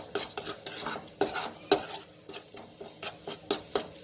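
Green chilli halwa being stirred in a pan, a spoon scraping and clinking against the metal in quick irregular strokes, close and fairly loud with a soft sizzle underneath, no voices.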